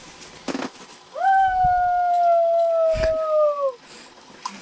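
A man imitates a wolf howl at night while fishing for crappies, one long sustained rising-then-steady wail lasting a few seconds, loud and close, framed by brief knocks and rustles.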